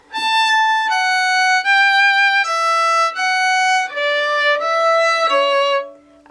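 A fiddle plays the closing run of the B part of the Irish tune "Drowsy Maggie", eight clear bowed notes stepping downward, solo, close and bright, with no voices.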